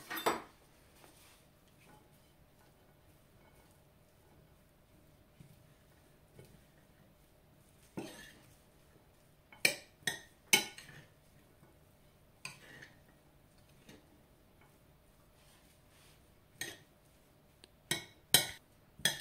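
Beef salad being tossed in a bowl, heard as sparse, sharp clinks and taps of utensils against the dish, several in quick pairs, separated by long quiet stretches of low room hum.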